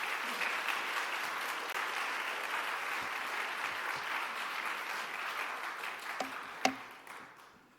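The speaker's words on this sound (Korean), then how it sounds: "우리 총장님 나오실 때 박수로 환영하도록 하겠습니다." Sustained applause from a sizable church audience fills the room, steady and dense, then fades out near the end.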